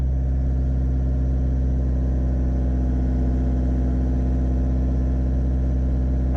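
A car engine held at a steady rev of around 2,000 RPM, a loud continuous drone with strong low harmonics. It stays even for the whole stretch, with no speech over it.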